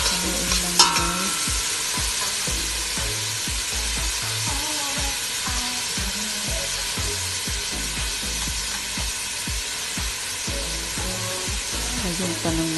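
Marag stew with rice and tomato being stirred as it fries and sizzles in a pan, a steady close scraping and bubbling that runs continuously with rhythmic stirring strokes.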